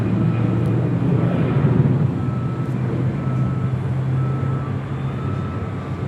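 A UPS Boeing 767-300ER at Los Angeles International Airport gives a steady, loud low engine drone with a sustained hum, close by and without voices.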